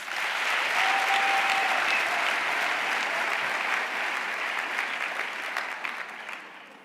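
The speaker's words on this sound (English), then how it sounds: "Let us give them another round of applause." A large audience applauds steadily, the sustained clapping staying full for several seconds before gradually tapering off.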